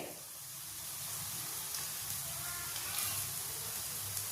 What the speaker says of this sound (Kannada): ಈರುಳ್ಳಿ ಬೇಯ್ತಾ ಇದೆ